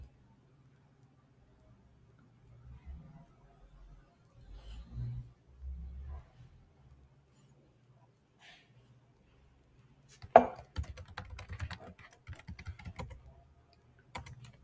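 Keystrokes on a computer keyboard while logging into a Hyper-V client machine, a quick burst of clicky taps in the second half after a quiet stretch with faint low murmuring.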